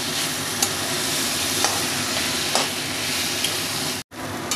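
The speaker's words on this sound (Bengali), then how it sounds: "কুমড়োটাকে নাড়াচাড়া করতে করতে কতটা ভাজা ভাজা হয়ে এসছে" Pumpkin pieces fry on full flame while being stirred, a steady close sizzle with occasional light spatula taps and a brief cutout near the end.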